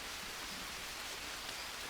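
Rain falling in the jungle survival game Green Hell: steady, soft hiss of rainfall on surfaces, faint and even, alone with no voices.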